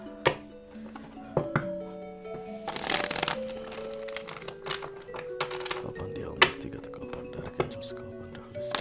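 Tarot cards being shuffled and handled on a table, soft riffling and light clinks running under a continuous voice.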